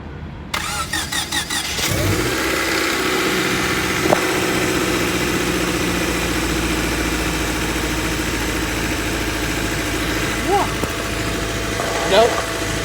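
A Honda Civic engine cranks and catches, then settles into a loud, rough idle that runs steadily to the end, with a few brief squeaks over the engine noise.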